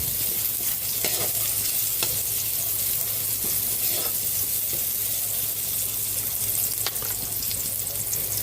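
Onion stir-fried in a pan, giving a steady close sizzle with occasional scraping stirs and faint clinks throughout, no voices.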